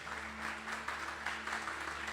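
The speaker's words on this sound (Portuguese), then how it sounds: "Vamos aplaudir Jesus em forte?" A church congregation applauds for Jesus during a worship service, a faint, distant patter of many hands clapping over a steady low electrical hum.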